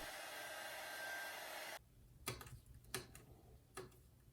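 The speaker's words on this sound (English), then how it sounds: "I'm going to give it a quick blow dry so we can keep moving" A hair dryer blows steadily to dry fresh barrel paint on a Dollar Tree reindeer craft. The loud, even whoosh runs for under two seconds and then cuts off. A few sharp clicks or taps follow in near silence.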